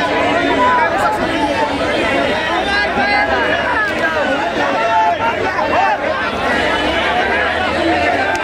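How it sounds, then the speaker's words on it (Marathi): A huge crowd of protesting students chatters in a dense, continuous babble, loud and close, with many overlapping voices filling the whole stretch without pause. "प्रचंड अशी गर्दी या ठिकाणी"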